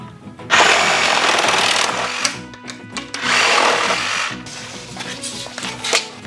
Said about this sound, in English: Everybody wants to see you use power tools.